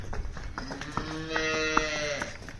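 A cow on a village farm gives a long, drawn-out moo, close and clear, with a few short low calls leading into it and no talk.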